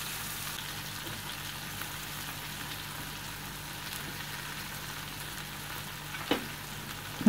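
Three chopped medium tomatoes sautéing in a pan for Mumbai street-style pav bhaji, a soft, steady sizzle with faint crackle that stays even and low throughout, one small clink near the end.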